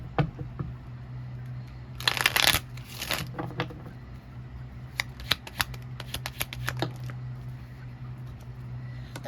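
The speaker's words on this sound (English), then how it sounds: "Okay, hold on. Let me shuffle." Tarot cards are shuffled close by in a quick riffling burst, followed by scattered soft taps and flicks over a low steady hum.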